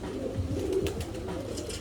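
Pigeons coo softly and steadily at close range, a low murmuring burble with no talk over it.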